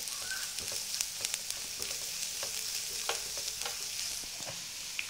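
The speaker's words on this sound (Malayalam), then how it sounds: "ഉള്ളി ചെറുതായിട്ട് വഴണ്ടു വന്നിട്ടുണ്ട്" Onions sautéing in a pan for chilli idli, a soft continuous sizzle with light scraping taps of a spatula stirring.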